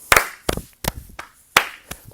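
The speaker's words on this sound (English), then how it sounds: "watch for that clap if you need help." Hands clapping a rhythm in a grade-school music lesson, six sharp, close claps in an uneven pattern with short gaps between them.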